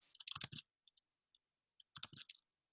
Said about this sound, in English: And I see Jason's furiously typing